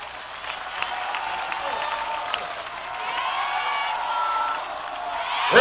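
Audience applause and cheering for a performer, sustained crowd clapping with scattered whoops throughout, fairly loud and steady, swelling slightly at the end.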